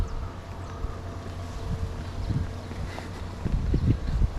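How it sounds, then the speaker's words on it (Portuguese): Wind at Itaguaçu beach in Coqueiros, Florianópolis, a steady low blustery rush with soft gusts building toward the end, heard alone with no talking. "Mas como tá ventando um pouquinho, mar, né? Sempre tem um pouquinho de vento."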